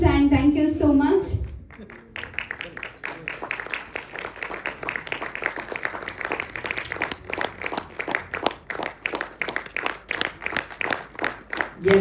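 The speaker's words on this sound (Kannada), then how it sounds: "ಎಷ್ಟು ಚೆನ್ನಾಗಿ ಎಲ್ರು ಚಪ್ಪಾಳೆ" Audience applause at a Kannada film festival: a steady run of clapping rises after a brief spoken passage and carries on, dense and fairly close, to the end.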